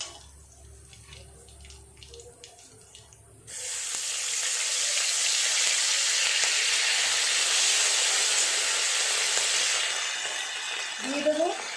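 Ginger paste dropped into hot oil for a vegetarian cauliflower and potato dish erupts into a loud, steady sizzle after a quieter start, then fades slightly with a few clinks near the end.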